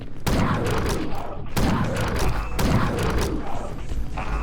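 Heavy gunfire bursts from the shooter game Chasm: The Rift, three loud booming volleys spaced about a second apart, each trailing into a rumbling decay, followed by a fainter rattle at the end.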